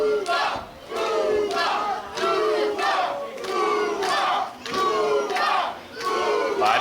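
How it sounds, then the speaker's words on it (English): Wrestling crowd at a Limitless Wrestling show in Yarmouth Bay roaring and chanting in loud rhythmic surges, swelling and dipping about every second, with no speech over it. "Dezmond Cole bringing this crowd up here in Yarmouth Bay"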